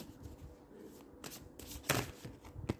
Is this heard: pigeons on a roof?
no